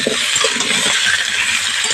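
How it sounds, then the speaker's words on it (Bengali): Cut small potatoes tumbling into a hot pan of frying onions, a broadband sizzle with scattered clinks and knocks as the pieces land, loud and close throughout. "কেটে রাখা আলুগুলো এর মধ্যে দিয়ে দিচ্ছি"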